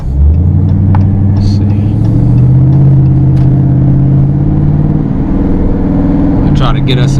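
A 2019 Dodge Challenger R/T engine while driving, heard from inside the car: a deep, loud rumble that climbs and settles as the revs change, with a brief spoken remark near the start.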